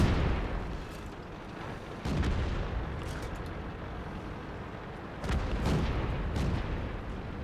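Tank cannon fire in World of Tanks from a T-28E with F30, with deep booming shots at wide intervals, each followed by a rumbling decay beneath steady battle ambience.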